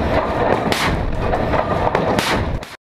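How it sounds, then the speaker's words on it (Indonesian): Twin AK-130 130 mm naval guns on a Kirov-class warship fire a loud, dense barrage. Heavy booms overlap into a continuous roar, with sharper blasts standing out now and then before it cuts off abruptly. "Namun ia masih mampu melakukan pertempuran jarak dekat berkat sistem artileri Twin AK-130."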